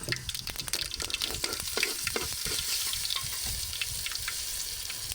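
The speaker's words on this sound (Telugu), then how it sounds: "ఆయిల్ హీట్ అయిన తర్వాత పచ్చిపప్పు కొంచెం ఆవాలు కొంచెం జీలకర్ర" Chana dal, mustard seeds and cumin hit hot oil in a village-style kitchen, making a steady close sizzle with crackling pops and frequent sharp spatters throughout, no voices.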